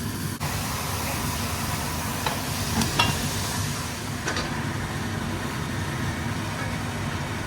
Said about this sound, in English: so I've heated the oil and I'm going to add the garlic and the ginger and the chillies together